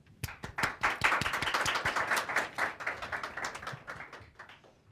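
Audience applause welcoming Mary Lou McDonald at the National Press Club, steady clapping from a crowd that swells quickly and then gradually thins out.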